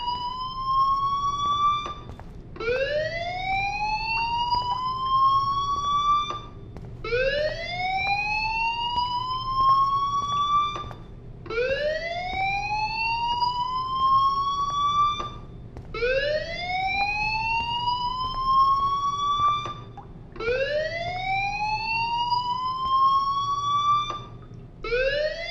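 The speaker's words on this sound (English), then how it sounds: "do you hear that fire alarm?" A fire alarm in the game Life is Strange wails in repeated rising sweeps, about six loud, steady cycles with short gaps between them, sounding alone with no talk.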